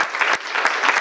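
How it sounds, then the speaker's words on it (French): Audience applause at a green tech event, a short burst of dense, close clapping that pulses slightly as it goes. "je pense qu'on peut s'applaudir."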